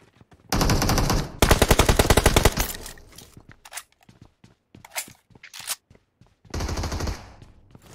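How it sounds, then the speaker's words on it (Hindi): Machine-gun bursts in the battle royale game BGMI, two long rapid sustained volleys followed by scattered single shots and short bursts, then another sustained burst near the end, close and loud. "इतनी गोली चल रही कहाँ कहाँ देखी भाई"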